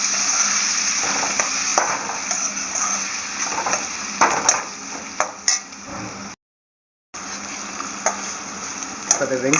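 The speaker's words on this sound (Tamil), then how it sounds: "தக்காளி, வெங்காயத்தை அதில் போட்டு நல்லா வதக்குறோம்" Chopped onions and tomatoes sauté in a pan for banana flower kootu, a continuous sizzle broken by scraping stirs and utensil clinks, with a brief dropout near the end.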